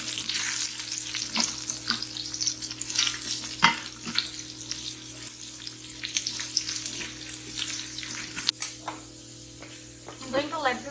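Chopped onions sizzle steadily in oil in an Instant Pot on the sauté setting for egg biryani, a continuous close hiss dotted with sharp crackles and occasional louder pops, fading slightly near the end.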